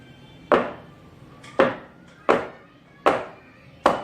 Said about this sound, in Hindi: बैटर इसके अंदर हार्ड मोल्ड में डाल दिया। ओके, ओके, अब हम इसको हल्का सा टैप करते हैं